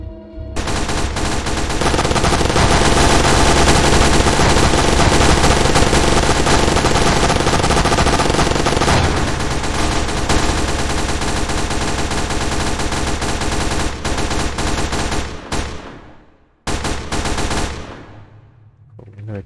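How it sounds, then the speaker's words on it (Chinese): A machine gun fires in the Roblox game SCPF, Area Omega, in a loud, dense, continuous stream of rapid shots that lasts most of the time before breaking off into a few short final bursts. "我们那个机枪炮。"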